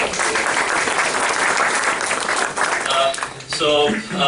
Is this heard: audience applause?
yes